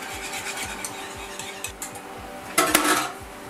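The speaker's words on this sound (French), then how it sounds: "donc on mélange bien" A spoon stirs and scrapes a tart base mixture around a bowl in a kitchen, with soft repeated rubbing strokes and a louder clatter of utensil against the bowl near the end.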